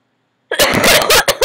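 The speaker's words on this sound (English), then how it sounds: "I don't know why I cough like that." A sudden burst of harsh, close coughing from a sick person, several rapid hacks packed into about a second after silence.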